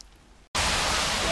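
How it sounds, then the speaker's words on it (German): Steady hiss of rain falling outdoors at an underground station, starting abruptly after a brief silence and holding loud and even, with no talk. "es regnet immer noch"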